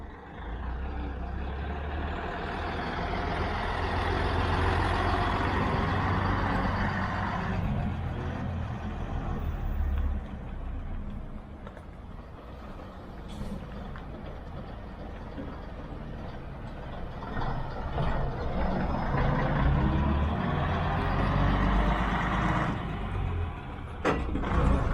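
A vintage 7-litre diesel bus with a four-speed non-synchro gearbox, at a diesel bus and heritage railway gala, rumbles loudly and steadily throughout, its engine note rising and falling with gear changes, with no voices heard.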